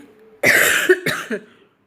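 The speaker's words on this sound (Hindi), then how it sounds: "खांसी जो है ना वो सही हो जाए तो ज़्यादा अच्छा है" A single harsh cough, followed by a shorter second hack, close and fairly loud, with silence around it.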